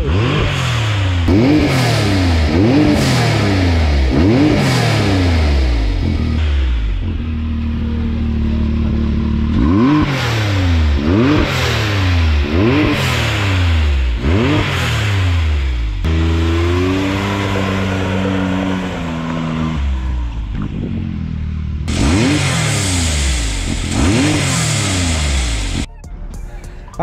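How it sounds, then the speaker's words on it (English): A 2021 Can-Am Maverick X3 side-by-side with an added blow-off valve and charge tubes revs repeatedly in close, loud rising sweeps. Between revs the blow-off valve releases with a hiss and flutter, ending in a brighter burst of hiss. "The blow-off valve sings."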